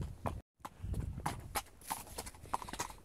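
A horse's hooves clip-clop down a lane in a steady walking rhythm, each strike crisp and near, with a brief gap near the start and faint outdoor ambience underneath.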